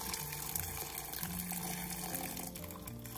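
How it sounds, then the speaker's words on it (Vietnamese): Boiling water poured from a kettle over peeled garlic cloves in a jar for pickling, a steady quiet splashing stream that runs continuously for a few seconds. "Bây giờ mình cho nước sôi vào."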